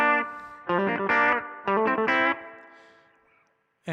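Electric guitar through distortion and chorus effects plays double stops, two-note chords struck in short bursts, the second phrase bent, ringing loudly then decaying into near silence with no voices.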